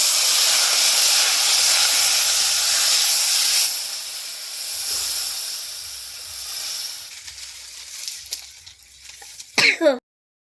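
Water is poured into a hot pan of thin fish curry with green plantain and potato, setting off a loud, sustained hiss of steam. The hiss gradually fades into softer bubbling, and a few sharp clatters come at the very end.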